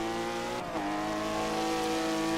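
European GT4 race cars at Suzuka's West Lane, a continuous loud engine drone with a rising pitch as cars pass and accelerate, no voices.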